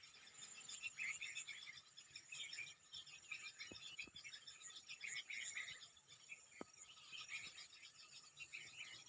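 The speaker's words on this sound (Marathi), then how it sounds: "पक्ष्यांचा किलबिलाट कसं चालू आहे बघा आंब्यावरती" Soft, dense bird chirping and twittering carries from a distance in a mango tree, blending with a steady insect-like buzz, with a few faint clicks.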